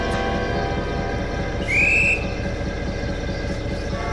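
A steady low rumble of a diesel locomotive hauling a heavy goods train in Trainz rolls on throughout, with a brief high horn-like tone rising midway.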